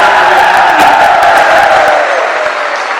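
Audience applause at a state-level convention rally in Bhopal, a dense burst of clapping and crowd noise that fades off after about two seconds.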